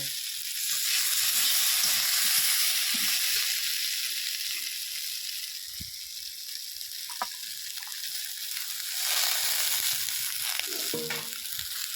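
Ground spices with a splash of water are stirred in a pan while cooking spinach stems and mixed vegetables, giving a constant loud sizzling hiss with faint scraping strokes underneath and no voices.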